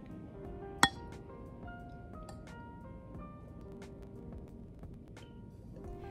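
Glasses of salt water clink together once in a toast, a single sharp ring standing out over a quiet room.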